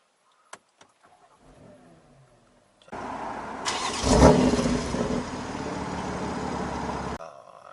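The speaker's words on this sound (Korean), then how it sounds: "먼저 시동을 걸어겠습니다" A 2020 BMW X3 M engine cranks and catches, roaring up loudly through an open exhaust flap before settling into a steady idle, preceded by a few faint clicks.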